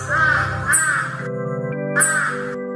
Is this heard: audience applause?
no